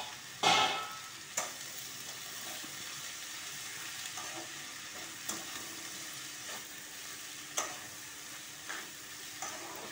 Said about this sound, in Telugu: బాగా ఎర్రగా వేసాను, కొంచెం పచ్చిపోయినంత వేగాలి